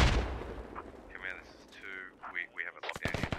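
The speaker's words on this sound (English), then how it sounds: "And here comes a frag." A frag grenade explodes in a first-person shooter game. A loud burst opens and decays into a rumble, then a voice talks over faint battle noise and a quick rattle of gunfire near the end.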